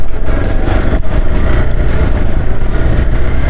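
Motorcycles pass on a winter mountain road in Spiti between Tabo and Kaza, heard as continuous, close, rough engine noise with no break.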